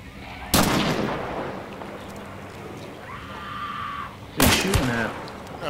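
Gunfire in Hunt: Showdown: two sharp, loud shots several seconds apart, each followed by a rolling echo, with a quieter mechanical tone between them and no talk.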